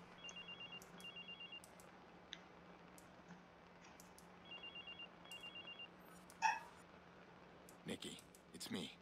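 A telephone rings inside the Watch Dogs video game, a faint electronic double-burst tone repeating in two pairs under a quiet room hum, with brief thuds near the end.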